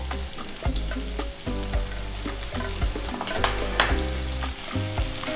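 Soy sauce sizzles and fries in a hot pan for a homemade tofu sauce, a steady loud crackle with repeated stirring scrapes and clacks throughout, no talk.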